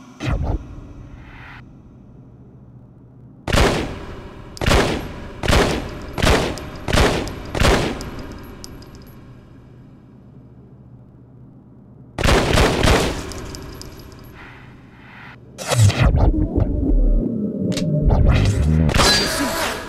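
Gunfire in the Wii video game Red Steel comes as bursts of loud, close shots: a rapid string of about six evenly spaced blasts, a pause, another dense burst, then a heavy sustained volley near the end.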